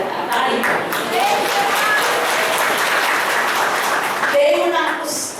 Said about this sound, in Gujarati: તાળી પાડો.